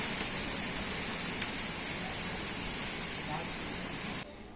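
Water drains off freshly washed rice in a sieve, a soft, steady, close trickle and patter that runs continuously before dropping away at the very end.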